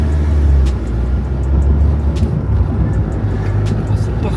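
A car drives along with a steady, loud engine and road rumble from inside the cabin, broken by a few faint clicks and knocks.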